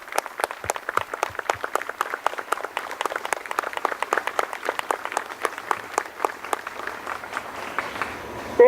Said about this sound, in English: I'd like you to just join me in a round of applause for this great-looking group of young Americans.